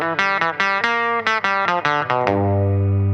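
Electric guitar on the bridge pickup alone plays a quick rockabilly lick of about ten bright, sharply picked notes, then lets a final low note ring out, loud and close with no talking.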